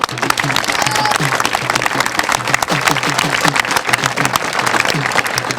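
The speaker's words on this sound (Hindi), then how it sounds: "सबसे पहले टॉपर बच्चों के लिए जोरदार तालियां हो जाए।" A gathering breaks into loud, dense applause for NEET topper students, steady rapid clapping from many hands filling the room with no talk over it.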